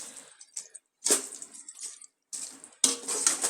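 Water poured into a pot of cooking meat, splashing in several uneven bursts with short gaps between them, close and moderately loud, with no talking.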